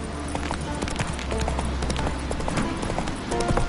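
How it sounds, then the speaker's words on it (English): Horse hooves clip-clop in The Witcher 3 on PS5, a steady rhythmic trot under a low, continuous game ambience with a faint background drone throughout. "Whoa there, Roach. Giddy up."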